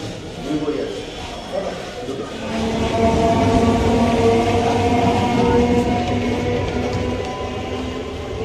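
A train rumbles in, its low drone and squealing tones building and holding steady, with people talking nearby over the noise.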